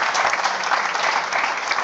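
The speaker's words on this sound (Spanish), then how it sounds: "Démosle un gran aplauso, por favor, a Hermann." An audience claps loudly and continuously, a dense, even burst of applause with no voices standing out.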